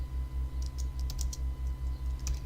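Keys clatter on a computer keyboard in quick bursts of typing, close and crisp over a steady low electrical hum.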